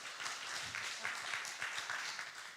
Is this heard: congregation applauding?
yes